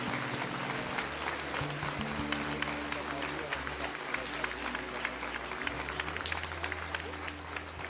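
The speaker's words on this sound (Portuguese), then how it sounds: "Dê um aplauso bem forte ao Senhor." A church congregation applauds with dense, continuous clapping that holds steady throughout, mixed with sustained music underneath.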